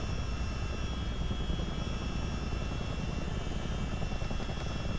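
Steady, dense rotor and turbine drone of a CH-47D Chinook helicopter in a flight simulator game, a loud continuous engine roar with faint high whine and no breaks across the whole stretch.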